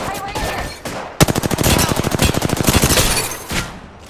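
Enemy gunfire in a shooter game, a loud rapid burst of automatic fire with sharp, closely spaced shots lasting a couple of seconds, framed by short quieter moments before and after.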